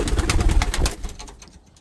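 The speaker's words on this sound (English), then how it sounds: "Birds animated today." Pet pigeons coo inside a kit box, a dense, close, rhythmic throbbing of calls that is busy at first and then thins out and fades toward the end.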